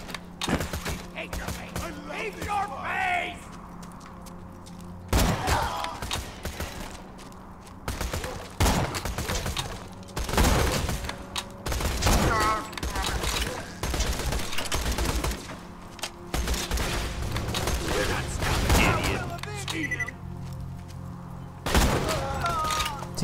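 Gunfire from the shooter video game Borderlands 2: repeated sharp bursts and volleys spread across the stretch, loud and close over steady in-game background sound, with a voice speaking between the shots.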